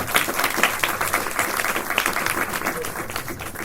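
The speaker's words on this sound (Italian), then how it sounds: "Facciamole un applauso." Audience applause at an Italian talk on body and psyche as a speaker is called to the stage, dense steady clapping filling the room throughout with faint voices mixed in.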